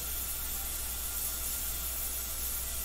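A steady, even hiss of an airbrush spraying paint onto Yeezy Boost 350 sneakers runs unbroken from start to finish at a constant moderate level, with no pauses or talk.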